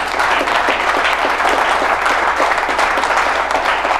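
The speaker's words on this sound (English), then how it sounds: "Hey, I think somebody wants to applaud." Audience applause at an entrepreneur event, a full and steady wash of clapping from a room of people that holds at a loud, even level with no speech.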